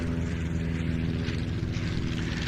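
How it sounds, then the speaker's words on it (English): A Nieuport 17 WWI biplane flies overhead at an airshow, its propeller engine giving a loud, steady, pulsing drone that holds throughout with no talk. "It took to the air in 2008, and it's been finished as one of von Richthofen's mounts"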